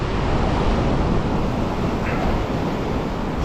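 Rough surf pounding a Rhode Island shoreline in foul weather, a dense continuous roar of crashing waves mixed with gusting wind noise on the microphone, loud and unbroken.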